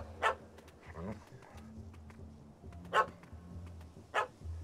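A dog barks in The Witcher 3 video game. Loud single barks come at intervals alongside soft whimpers, under game character dialogue.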